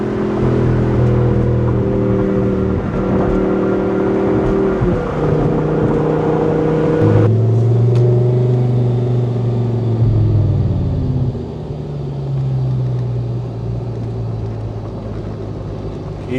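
V10 engine with an aftermarket exhaust and an 8,700 RPM redline, droning loud and steady as the car is driven, the pitch stepping down through gear changes into a lower rumbling cruise.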